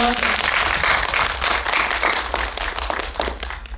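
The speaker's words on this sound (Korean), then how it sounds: "도와주실 수 있는 분들 네, 큰 박수 부탁드릴게요." An audience at a film screening Q&A claps enthusiastically, a dense wash of hands that gradually thins out toward the end, with a low rumble beneath.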